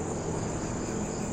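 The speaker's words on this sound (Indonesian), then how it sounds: "Di belakang rumah sini dengan suara jangkrik." Crickets chirp steadily behind a house, a dense, continuous insect drone that fills the brief stretch at close range with no voices.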